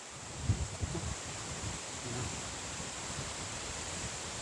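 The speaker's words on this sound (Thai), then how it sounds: "ลมแรงมากเลยตรงนี้" Strong wind gusting along the Mekong riverside at Khemarat, a steady broad rushing roar with buffeting on the microphone, a few low thumps early on, no talking.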